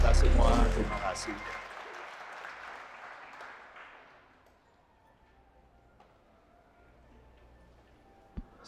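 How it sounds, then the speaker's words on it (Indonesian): Audience applause at a church youth gathering, loud at first and fading over several seconds into quiet room noise, with a single sharp knock near the end. "Tepuk tangan untuk kita semua"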